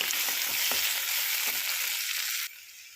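Curry with ginger-garlic paste sizzling and frying in a pan while being stirred, a dense steady hiss with occasional scraping clicks that drops abruptly quieter near the end.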